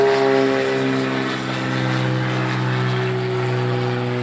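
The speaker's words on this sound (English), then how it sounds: "I hate these airplanes." An airplane drones overhead in a chicken garden, a steady loud engine hum with strong layered tones that barely changes across the short stretch, with no talking.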